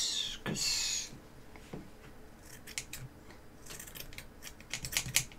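Scissors snip doll hair at an angle, a crisp slicing cut followed by a quick run of small, close metallic snips and clicks.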